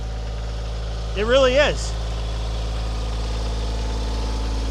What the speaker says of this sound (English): That is a lot for this 25 horse tractor to dig out.